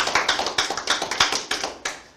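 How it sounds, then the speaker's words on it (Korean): Scattered clapping from an audience at a Korean lecture, brief bursts of hands patting in uneven rhythm, moderately close, fading out after about two seconds with no voices. "박수 한번 부탁드리겠습니다"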